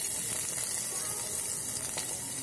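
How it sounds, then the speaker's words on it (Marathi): Garlic sizzles in a ladleful of hot oil for tempering, a steady, even crackle and hiss held close throughout, with no talk. "मी फोडणीसाठी लसूण घालते"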